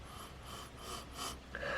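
A person sniffs closely at a grape-flavour PRIME drink in a few short, breathy inhalations, with no speech.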